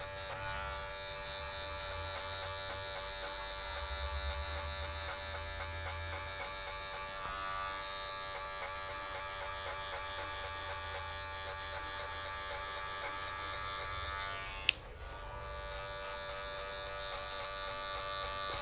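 Electric hair clippers with a 0.5 guard buzzing steadily and close while trimming a man's beard and mustache, a constant mechanical drone with one brief sharp click near the end, no talking.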